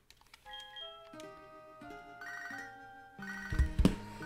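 A phone ringing in the Pokemon Soul Silver video game: a bright, tonal electronic ringtone melody of stepped notes, rising in loudness toward the end, with no voices over it.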